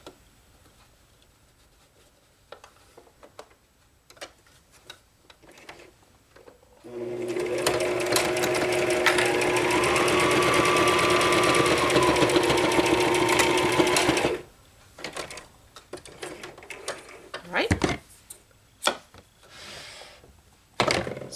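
A sewing machine runs steadily for about seven seconds, stitching a quarter-inch seam along the side of a cross stitch pillow with a flange accent, close and loud, with quiet handling noises before and after.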